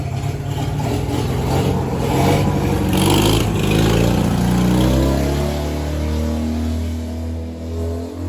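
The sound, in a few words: lawn tractor engine running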